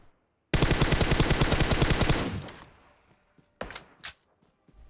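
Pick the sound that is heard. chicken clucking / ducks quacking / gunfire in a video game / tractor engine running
gunfire in a video game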